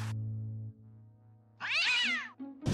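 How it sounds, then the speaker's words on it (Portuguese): A cat in the video game Day of the Tentacle lets out one clear, rising-and-falling meow near the end, after a low electronic hum with no talking. "tem um gato brincando"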